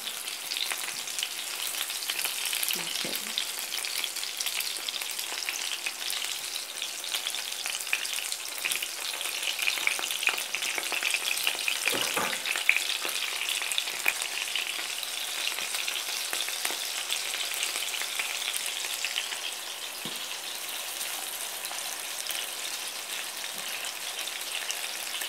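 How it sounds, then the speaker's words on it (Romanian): Chicken meatballs fry in very hot oil in pans, giving off a steady, dense sizzle and crackle that lasts throughout. A few soft clicks and stirring knocks come through now and then, and no one speaks. "Când sunt prăjite frumos pe o parte, ne întoarcem pe cealaltă parte."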